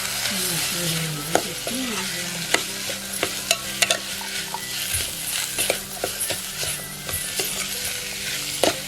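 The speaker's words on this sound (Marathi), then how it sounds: "हे सगळेच मसाले आता फोडणीवरती जाणार आहेत" Spices sizzle and crackle in hot oil for a cashew curry tempering while a spoon scrapes and stirs the pan in irregular strokes, close up.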